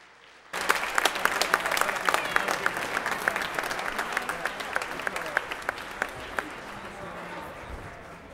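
Audience applause fills a school choir's winter concert venue, starting abruptly and holding steady as dense, even clapping from a large crowd for several seconds before easing slightly near the end.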